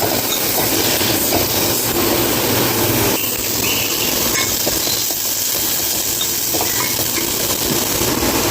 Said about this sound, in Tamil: அதை நல்லா வதக்கிக்கணும்